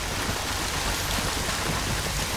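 Steady pouring rain in The Bureau: XCOM Declassified, a dense even hiss with no gaps across the whole span and nothing else standing out.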